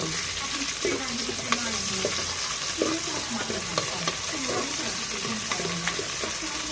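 Chopped garlic and onion sauté in a pan for a Filipino chicken tinola, giving a steady close sizzle broken by scraping stirs, with clinks of a utensil and a faint trickle of water in the background.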